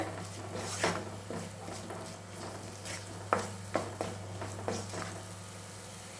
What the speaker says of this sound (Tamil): இப்போ இது நல்லா ஒரு ரெண்டு நிமிஷம் வதங்கட்டும் சிம்மில் வச்சுக்கோங்க தீய